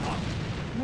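A grenade blast in the shooter game AVA gives a short, loud, dense rumbling boom that fills the whole moment.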